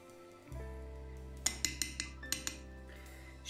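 Utensil stirring an elderflower and rice mixture being prepared for fermentation into elderflower drink, with a low steady hum underneath and a run of about six sharp clinks against the container, fairly close and heard alone.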